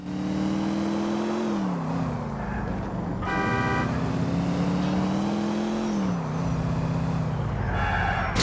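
Engine drone of a classic car driven through Grand Theft Auto IV: The Lost and Damned, a steady loud hum that rises and falls with revving, joined by short horn-like toots partway through and near the end.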